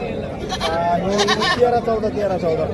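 Goats bleating at a crowded goat and buck market where Beetal, Katewadi and Osmanabadi goats are sold, several wavering bleats overlapping loudly under steady chatter and bargaining voices nearby.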